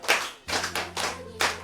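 An audience at a Yoruba podcast recording claps in four quick, fairly close bursts separated by short pauses, with no talk over it.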